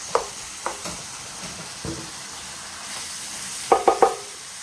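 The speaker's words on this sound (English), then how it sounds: "So I added some of the chopped tomatoes to the beef. And I just let it warm through with the beef." Ground beef and chopped tomatoes in a pan give a steady sizzle, broken by a few clicks and clatters of a utensil stirring, with a quick cluster of scrapes near the end and no voices.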